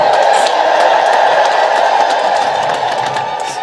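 A crowd ululates and cheers in one loud, sustained, high trilling wave that stays steady and fades slightly at the end, with no clear speaking over it.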